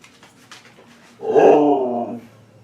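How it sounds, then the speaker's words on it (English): A dog gives a playful, close woof-like vocalisation, a single drawn-out grumbling bark lasting about a second, following a quiet stretch. "She's playtime woofing at me."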